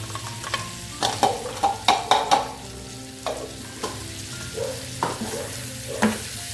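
Asafoetida and curry leaves crackling in hot oil for a dates-and-lime pickle, steady sizzle punctuated by a rhythmic series of sharp metal spoon knocks and scrapes against the pan, near and clear, no speech.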